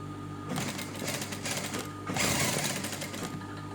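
A sewing machine running a straight seam, whirring steadily and close for over three seconds, briefly easing off and then speeding up again.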